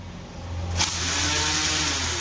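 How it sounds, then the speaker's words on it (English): A Corvette Stingray with an MBRP exhaust and AFE catless setup fires up and revs loudly, the exhaust roaring into a steady, throaty drone close by. "you guys have wanted to hear the car"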